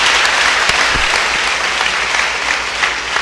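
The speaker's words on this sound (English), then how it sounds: "Clap for Jesus." A church congregation applauds during a service, with dense, steady clapping holding at full volume across the whole stretch.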